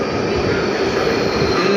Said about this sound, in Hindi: ये मेट्रो आ गई,